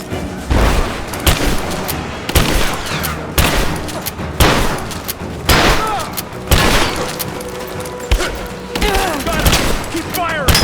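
Rapid bursts of gunfire in Rise of the Tomb Raider crack out in repeated loud volleys with booming impacts, close and dense, with shouting voices woven between the shots.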